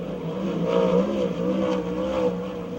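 A USAC/CRA sprint car at Perris runs a qualifying lap, its engine wailing in rising and falling pitch as it works around the track at a moderate distance.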